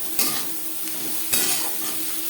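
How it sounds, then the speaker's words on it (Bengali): Sliced onions with salt and turmeric sizzle steadily in a frying pan nearby, punctuated by two distinct scraping stirs of a spatula about a second apart. "লবণ হলুদ দিয়ে পেঁয়াজ আমি লালচে করে ভেজে নেব।"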